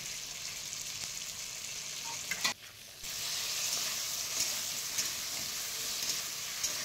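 Ground ginger and cumin paste fries in a pan for a thin fish curry with a loud, continuous hiss and crackle. A short dip in the middle is followed by a renewed, steady sizzle.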